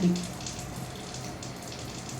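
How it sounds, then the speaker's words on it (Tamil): Water is poured slowly in a steady stream into a pot of freshly cooked tomato rice, giving a continuous close splashing and trickling wash with no talking. "இந்த மாதிரி தண்ணி எடுத்துக்கோங்க"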